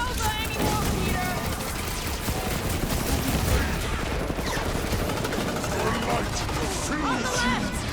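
Sniper gunfire in the Guardians of the Galaxy video game, a dense, continuous clatter of shots and impacts, with voices talking over the combat.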